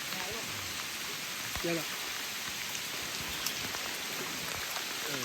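Heavy rain pours down steadily outdoors in Borneo during a spearfishing outing, a dense constant hiss of drops with a few brief voices speaking in the middle of it.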